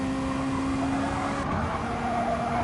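Turbo whoosh and engine drone from a GT3 race car climbing the mountain section of Mount Panorama in a sim racing game, a steady continuous tone with a brief shift partway through.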